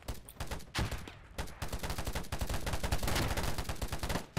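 Dense automatic gunfire fills the video game Polygon, with rapid overlapping shots and bursts from several weapons that run almost without a break, loud and close.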